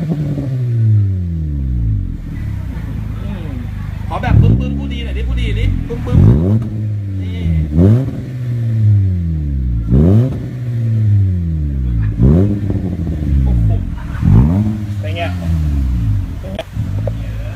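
A motorcycle fitted with an AZC titanium exhaust muffler revs hard again and again, each loud blip rising and falling back to idle, close by, with occasional voices.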